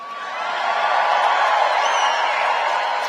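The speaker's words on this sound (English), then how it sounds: "Boy, this crowd has a lot of enthusiasm." Crowd at a Trump political rally in Green Bay, Wisconsin, roaring and cheering on a Saturday night, a dense wash of voices that swells after the first half second and then stays loud and sustained.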